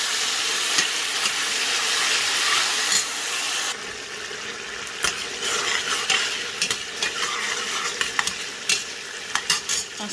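Tomato paste fries and sizzles in a pot while a spoon stirs it, a steady hiss with scraping and clinks close by.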